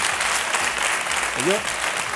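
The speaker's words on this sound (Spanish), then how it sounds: "A ver, por favor, un aplauso para que..." Steady applause fills a television talk-show studio, and a short spoken word rises briefly over the clapping near the end.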